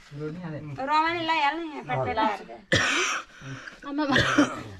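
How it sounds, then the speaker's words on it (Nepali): Someone talks, then breaks into a couple of harsh coughs between his words. "केलाई खोकी लाग्यो दाइलाई"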